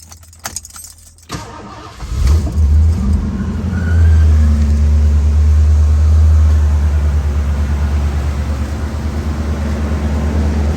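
A 1984 ASC McLaren Mercury Capri convertible is started after a few soft clicks and key sounds; the engine catches and settles into a loud, steady idle close by.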